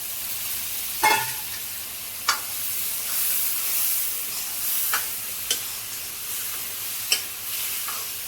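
Boiled kidney beans (rajma) stirring and frying in a pan, a steady soft sizzle with several sharp scraping clinks from a spoon spaced a second or two apart.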